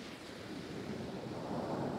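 Surf breaks steadily on a beach during a surfcasting outing, a broad continuous wash that swells toward the end, with wind buffeting the microphone.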